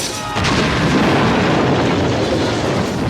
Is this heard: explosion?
yes